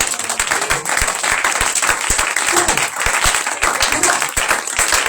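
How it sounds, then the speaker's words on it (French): A church congregation claps and cheers during a Passover service, with dense, continuous applause and sharp individual claps over a loud, lively crowd. "Acclame le Seigneur Jésus-Christ"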